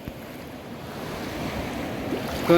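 Sea waves wash and surge steadily during cast net fishing from the shore, a continuous broad rush of surf with gusting wind noise that grows slightly louder toward the end.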